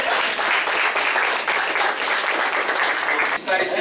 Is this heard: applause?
yes